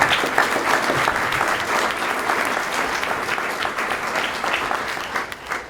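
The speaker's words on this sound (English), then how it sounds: "I think you ought to give all yourselves a round of applause." A crowd at a school athletics hall of fame induction ceremony gives a loud, sustained round of applause, with dense, even clapping throughout.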